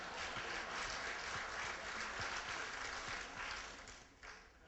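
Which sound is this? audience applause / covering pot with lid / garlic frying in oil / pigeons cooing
audience applause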